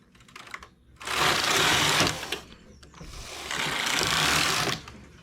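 A knitting machine works a ribbed tank top, its carriage sweeping across the needle bed in two long rattling, clacking passes separated by a brief pause, steady and fairly close with no talk.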